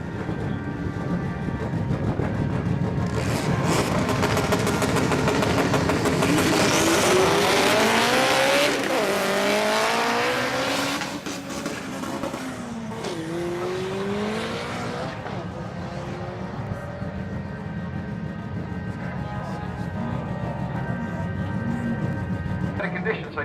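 A tuned car on a drag strip at an HKS drag series event accelerates hard, its engine rising through gear changes in repeated sweeping climbs, loud and close, with a commentator talking over it.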